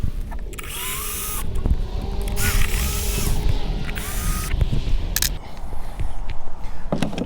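Screws come off the starter cover of a Toro lawnmower with a close power driver, whirring in long bursts with ratcheting clicks and short pauses between them.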